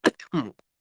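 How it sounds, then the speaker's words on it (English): A short cough with a throat-clearing quality, a few quick bursts up close, followed by a tiny click. "I was coughing"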